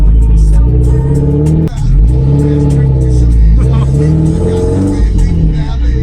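Toyota MR2 Spyder with a full catless exhaust revving hard, a loud, raspy engine drone that rises and dips steadily, with a brief drop in pitch midway as if during a gear change.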